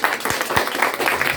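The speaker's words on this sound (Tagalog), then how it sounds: "Para lang mahina yung palakpak." Applause from a congregation gathered in a church, a dense steady patter of many hands clapping with a few stronger slaps standing out.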